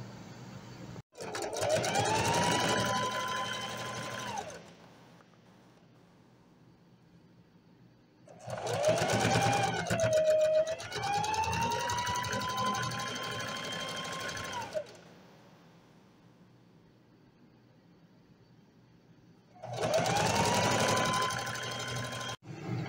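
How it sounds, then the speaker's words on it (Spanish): An overlock sewing machine stitches the side seams of a blouse and shorts in three long bursts of whirring, each several seconds long and separated by near-silent pauses, close and clear. "Realizamos la costura de los laterales, también un overlock en ambos laterales."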